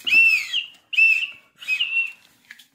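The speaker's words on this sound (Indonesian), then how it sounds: "itu kan suara burung toh?" Three clear, loud bird calls close by, each a bright descending whistle, separated by short silences, with a faint chirp at the end.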